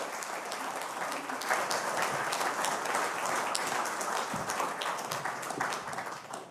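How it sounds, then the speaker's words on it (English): An audience applauds continuously, a dense wash of many hands clapping that swells briefly, then starts to fade at the end. "Let's give them a round of applause as they take to the stage"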